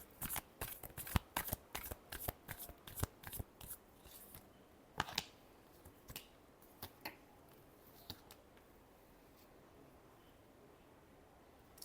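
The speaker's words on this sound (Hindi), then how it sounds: "Last shuffle." Tarot cards are shuffled by hand in a rapid run of crisp riffling clicks that thin out into scattered single flicks, close and quiet against a near-silent room.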